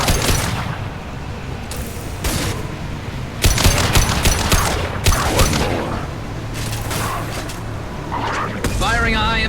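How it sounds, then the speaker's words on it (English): Gunfire in Mass Effect 2 includes a high-impact shot, with loud sharp bursts and booms scattered over combat noise while a voice talks throughout. "Firing a high-impact shot. This should punch through their armor."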